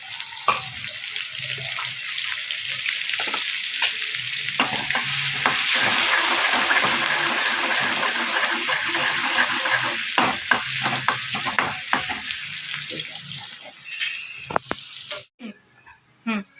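Chopped onion dropped into a hot pan for fish curry, with a steady close sizzle and frying hiss, intermittent stirring clatter and a few sharp knocks of utensil against pan toward the end.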